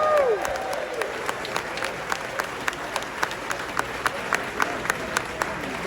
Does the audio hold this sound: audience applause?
yes